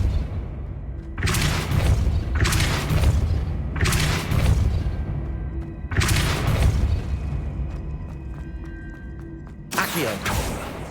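Depulso force spell in Hogwarts Legacy, heavy booming thuds repeating roughly every two seconds, loud and close, each with a sharp onset and a rumbling tail.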